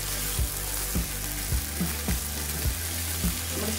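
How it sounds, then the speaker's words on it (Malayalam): Chicken pieces fry in a pan for a chicken roast, a continuous close sizzle broken by regular soft knocks and scrapes of stirring, with no talking. "നമ്മുടെ ചിക്കൻ പീസസൊക്കെ വെന്തുകയാണ്"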